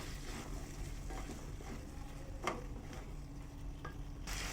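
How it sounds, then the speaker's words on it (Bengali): Kabuli chickpeas are stirred into a frying spice masala, a soft steady sizzle with faint spatula scrapes and light knocks against the pan, quiet and continuous. "সব ছোলাগুলো দিলাম, দিয়ে ভালো করে নেড়ে নিচ্ছি"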